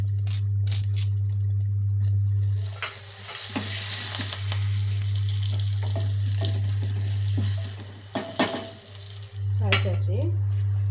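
Curry leaves crackle in hot oil with popped mustard seeds and asafoetida in a clay pot, a close sizzle with stirring scrapes over a loud constant low hum that drops out briefly.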